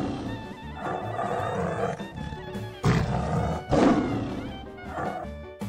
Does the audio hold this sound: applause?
no